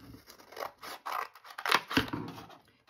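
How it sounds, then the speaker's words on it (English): Scissors snip through folded paper to cut out a turkey beak, giving a few close, crisp cutting crunches alone with no talk. "when I cut this out,"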